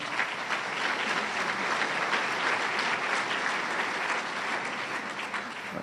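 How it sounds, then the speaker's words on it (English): A college audience at a State of the College address applauds the workforce department with continuous, even clapping from a sizable crowd, holding at a constant level throughout. "How about a big round of applause for them?"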